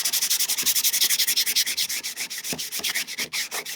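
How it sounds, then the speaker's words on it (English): Sandpaper, 100 grit, rubbed back and forth over a metal measuring tool to burnish off patina, a steady close scratchy rasp with regular strokes that quicken toward the end, no voices. "This happens to be 100 grit, but you can use almost any sandpaper."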